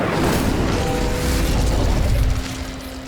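A loud fiery whoosh and boom from the Incendio fire spell cast in Hogwarts Legacy on Nintendo Switch, a sustained burst of roaring flame that fades slightly near the end.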